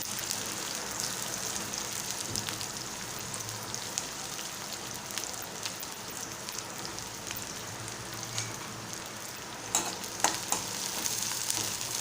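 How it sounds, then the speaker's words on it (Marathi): Steady crackling sizzle of onions frying in hot oil, continuous and close, with a few sharper pops near the end. "बारीक चिरून घेतलेला कांदा फोडणीला घालत आहे"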